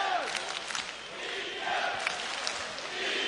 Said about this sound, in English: Hometown chant of Go St. Petersburg